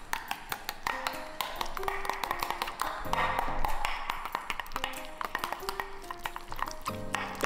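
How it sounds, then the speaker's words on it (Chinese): A utensil briskly whisking egg, tomato and green onion pancake batter in a bowl, rapid repeated light taps and clicks against the rim, with faint music in the background. "搅拌一下"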